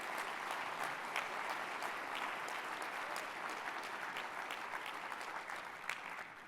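A seated audience at a corporate innovation awards ceremony claps steadily for the awardees, a dense, even wash of applause that holds at a constant level from start to finish with no talking over it.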